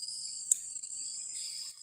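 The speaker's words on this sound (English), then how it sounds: "Those crickets are trying to drown us out." Crickets chirp outdoors on a farm in a steady, continuous high-pitched trill, fairly faint, with a brief sharper click partway through and no talking.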